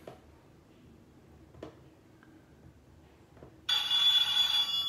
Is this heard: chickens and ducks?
no